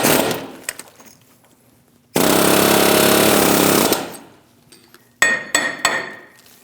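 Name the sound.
air hammer on steering knuckle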